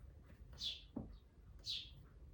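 Two small birds indoors in a living room give two bright, high chirps about a second apart, quite faint over a low room hum, with a soft knock between them.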